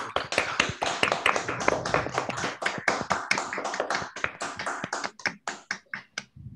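Participants in an online meeting clap with open microphones, producing sharp, uneven individual claps that overlap at first and then thin out to a few separate claps near the end.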